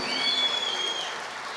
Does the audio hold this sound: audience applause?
yes